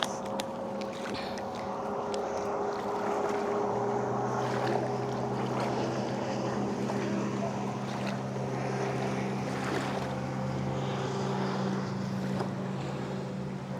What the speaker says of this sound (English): All these boats.